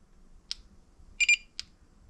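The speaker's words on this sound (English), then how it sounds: "Beeps and turns on." A JK battery management system powering up, giving a few short electronic beeps: one single chirp, a quick double burst, then another single beep, clear against a quiet room.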